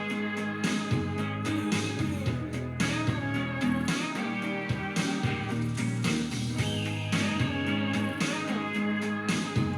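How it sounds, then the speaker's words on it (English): A dense band mix with several layered guitars, including slide and steel tones, over keyboard, bass and drums, playing continuously. "There's a slide guitar, there's a steel guitar, there's a keyboard, there's a regular guitar."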